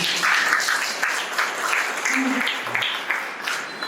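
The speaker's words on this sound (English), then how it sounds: "Give her a clap, please." An audience at a parish youth day debate claps for a girl who has just spoken, the applause mixed with voices talking over it and fluctuating in strength.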